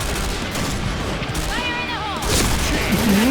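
Rapid G36C rifle gunfire from the video game Point Blank, bursts of shots with mechanical clatter and a few in-game tones in the mix, moderately loud.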